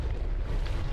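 Mortar fire in the game From the Depths: a dense, continuous low rumble of blasts with a deep, booming body and no clear gaps, loud and close.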